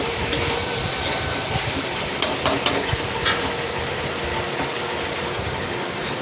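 Stirring boiled potatoes in a cooking pot, a soft continuous scraping and sizzling texture with a few sharp clicks of the spoon against the pot, close and moderately quiet, no talk.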